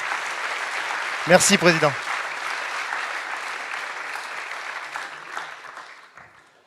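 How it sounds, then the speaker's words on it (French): Audience applause for the coordinators at a trade skills competition, a steady mass of clapping that thins and fades toward the end, with a brief spoken thanks near the start. "je crois qu'on peut à nouveau les applaudir"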